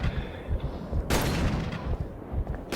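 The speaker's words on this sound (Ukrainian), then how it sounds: "вони стріляють по мені і жодного разу ще не влучили" Gunfire in the video game Call of Cthulhu: Dark Corners of the Earth, set in a church level: two sharp, loud blasts stand out against a low rumbling background, with no speech.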